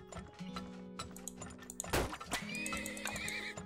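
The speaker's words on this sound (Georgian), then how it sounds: "კიდევ გჭირდება ერთი ცხენი." A horse neighs in the video game Turmoil, giving one loud whinny in the middle of the clip, with clip-clop hooves and mechanical game sounds around it.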